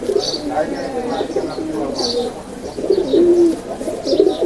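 Soft, low pigeon cooing repeats in gentle rolling phrases close by, continuing steadily through the clip alongside a man's speech.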